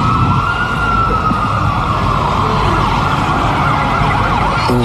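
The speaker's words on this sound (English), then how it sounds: "Double ambulance coming down Adelaide Road" Two ambulances pass along Adelaide Road by the Basin Reserve in Wellington with sirens wailing, loud and close over steady traffic rumble, the rising and falling tones overlapping throughout.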